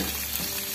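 Bitter gourd sautéing in oil in a pan, a brief, even, close sizzle with no voices.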